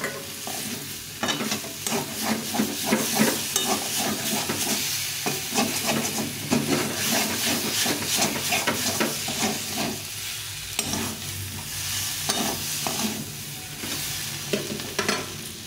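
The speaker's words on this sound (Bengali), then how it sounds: "এর সঙ্গে কিছুটা আলু ভেজে রেখেছিলাম, এটাও দিয়ে দেবো, দিয়ে এটাকে ভালো করে কষিয়ে নেব" Cauliflower with pre-fried potatoes and chana dal is stirred and sautéed in a hot pan, giving a steady close sizzle with repeated scraping strokes of a spoon throughout.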